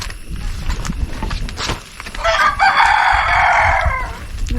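A rooster crows loudly in a long drawn-out call, with free-range local chickens clucking and scratching around it nearby at feeding time.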